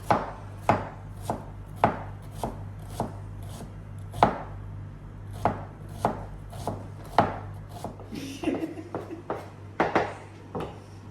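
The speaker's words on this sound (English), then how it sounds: "Chop onion." Knife finely chopping an onion on a cutting board for a risotto, a series of sharp, close, loud chops in an uneven rhythm of about twenty strikes, alone without talk.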